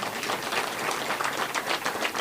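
An audience claps continuously at a political address at party headquarters, a dense, even patter of many hands heard from slightly afar at moderate volume.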